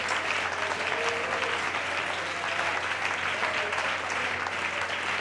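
A church congregation claps during a worship service, a sustained, even wash of applause at moderate volume that continues throughout with a low hum beneath it.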